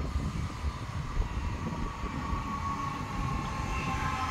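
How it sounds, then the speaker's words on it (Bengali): A metro train pulls into an underground station in Rome, a loud steady rumble and rolling roar of wheels on track with a faint high whine, heard up close with no talk. "এই যে মেট্রোটা চলে আসছে"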